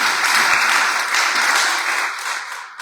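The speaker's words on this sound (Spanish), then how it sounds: "denle el aplauso al Señor" A church congregation bursts into loud, dense applause, many hands clapping at once in a steady wash that fades slightly near the end.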